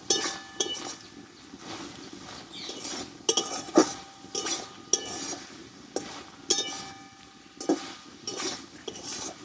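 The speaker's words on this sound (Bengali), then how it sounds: "একটু এইভাবে নাড়াচাড়া করে নেব" A utensil stirs drumstick (sojne data) curry in a pan, giving repeated scraping clinks of metal on the pan at an uneven rhythm. The sound is close and moderately loud, with no talking.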